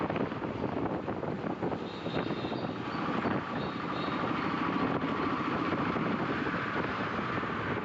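Strong wind buffets the microphone on a busy road in Bengaluru, making a continuous loud roar with no clear breaks.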